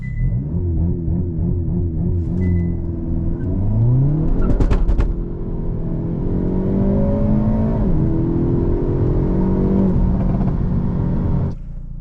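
A 2024 Hyundai i30 Sedan N (Elantra N) launching in a 0-100 km/h test: the engine revs loud and close, then surges through rising gear pulls with a brief crackle midway, steady for about twelve seconds.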